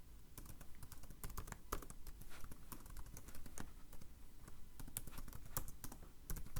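Fingers type on a computer keyboard to sign in to a test account, a brisk close patter of key clicks running steadily without pause.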